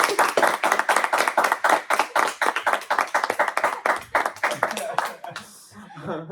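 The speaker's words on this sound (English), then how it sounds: "Should we just start clapping?" Several people clap their hands together in a fast, steady burst, loud and close, with scattered laughter and chatter mixed in during a casual podcast recording.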